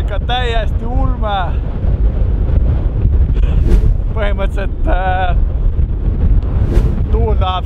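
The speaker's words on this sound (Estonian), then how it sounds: "Tuul on ikka täiesti ulme." Strong wind roars and buffets the microphone continuously on an island, with a person speaking over the gusts throughout.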